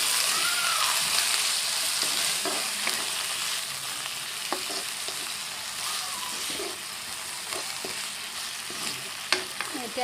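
Bottle gourd peel and onions fry in a pan, with a steady sizzle running under scattered scrapes and clicks of a spatula stirring, fairly close and without voices.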